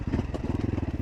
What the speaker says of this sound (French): là vous voyez le moteur il s'éteint